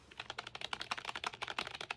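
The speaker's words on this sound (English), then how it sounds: "The typing is pretty good." Rapid, steady typing on a Logitech K120 USB wired keyboard, a plastic budget board with matte black keys, giving close, crisp, light clicks in a quick continuous rhythm with no talking.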